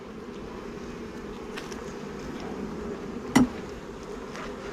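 Honey bees buzz steadily around an open Flow Hive during an inspection, a close, continuous droning hum, with a brief knock near the end.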